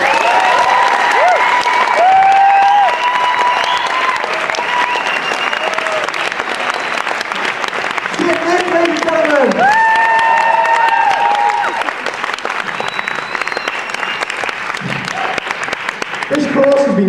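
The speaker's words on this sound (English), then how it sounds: "let's have another round of applause" A live comedy audience in Southport applauds loudly and continuously, dense clapping with some cheering, while voices call out over it.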